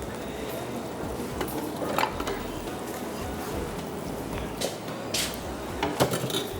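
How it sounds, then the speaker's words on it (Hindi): Fried minced-meat kebabs being dished out onto a plate, with scattered clinks of metal utensils against cookware over a low background hiss of hot oil. "अच्छा, इसको डिश आउट कर देती हूँ मैं।"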